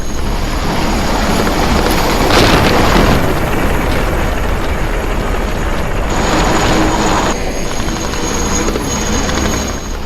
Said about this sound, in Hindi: यूक्रेन के आसमान में रशिया के फाइटर जेट्स की गड़गड़ाहट लगातार सुनाई दे रही है